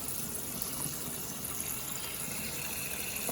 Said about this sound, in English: what you can see is the water overflows. It goes over the overflow pipe.